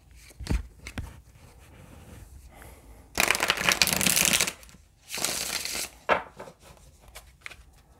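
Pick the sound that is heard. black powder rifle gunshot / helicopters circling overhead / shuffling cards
shuffling cards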